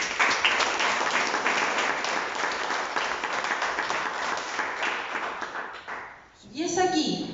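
Sustained, even applause from a crowd at a book launch in Chile runs for about six seconds, then fades quickly as a voice begins speaking.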